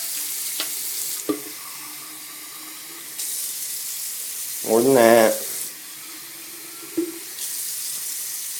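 Tap water runs into a jug in a home setting, a brief gush near the middle after quiet stretches with small clunks and handling sounds, while a person talks briefly.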